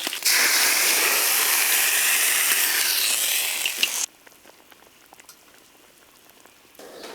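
Boiling water pours into a pan of fried crucian carp with a loud rushing, bubbling hiss for about four seconds, then cuts off to a quiet simmer with faint crackles before a brief swell at the end.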